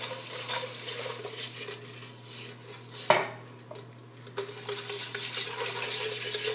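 Ball whisk stirring a flour mixture in a metal pan on the stove, with quick rattling clinks and scraping, a sharper knock midway, and a low steady hum underneath.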